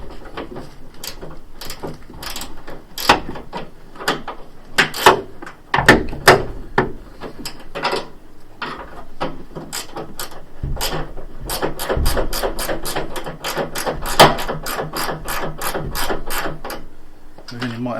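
Fixings being tightened while a front wing is fitted to a Fiat 500, giving repeated close ratcheting clicks and small metallic clatters in bursts, with some handling noise between them.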